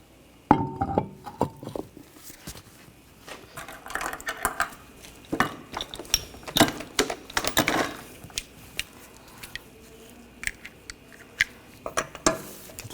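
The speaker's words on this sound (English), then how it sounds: "Now put the wheel on." Metal lug nuts clink and rattle in scattered sharp bursts while a wheel goes back onto a 2014-2020 Nissan Rogue, close and fairly loud, with no talking.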